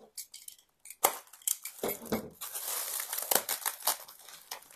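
Taped cardboard shipping box holding a begonia plant being opened, with crinkling packing material, tape tearing and rustling handled up close in short irregular bursts.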